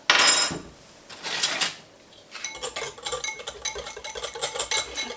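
Pancake batter with vanilla and milk being stirred in a bowl, a utensil scraping and clinking against the sides in quick irregular strokes, with a couple of louder knocks near the start.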